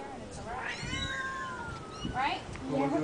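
Several kittens meowing together in a shrill, overlapping chorus of high, wavering cries close by, with low voices talking underneath.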